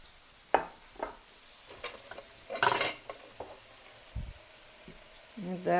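Beef searing over very high heat in about a tablespoon of oil and a couple tablespoons of salted butter, for a risotto with beef and butternut squash. A soft, steady sizzle runs under scattered stirring scrapes and clinks, with brief faint voices.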